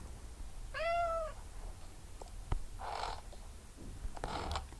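A pet cat in a bedroom at evening gives one clear, drawn-out meow near the start, followed by faint rustling and soft handling sounds in a quiet room.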